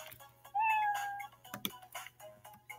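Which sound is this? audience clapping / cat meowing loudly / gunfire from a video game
cat meowing loudly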